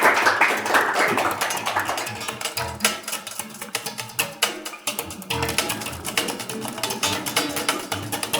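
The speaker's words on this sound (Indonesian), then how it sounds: "Tepuk tangan dulu dong for Gigs." A studio audience clapping for Gigs during a podcast, a brief dense burst of applause followed by scattered, uneven claps that fade out, with a voice briefly heard.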